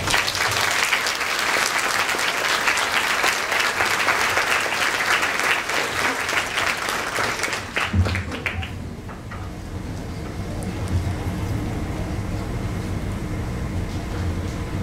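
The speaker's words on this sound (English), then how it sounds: "Please give these students a round of applause." Audience applause at a high school graduation ceremony, dense clapping from a large crowd for about eight seconds that then drops away, leaving a low room hum.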